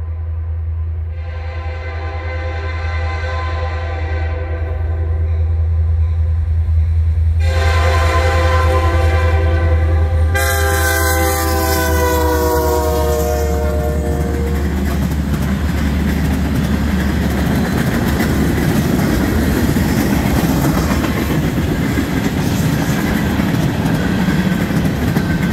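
A CN freight train horn blares in long sustained blasts near the start, then the heavy rumble and clatter of the northbound train rolling steadily past at Conrath, loud and close.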